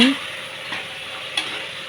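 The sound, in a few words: frying pigeon peas with fenugreek leaves in a pan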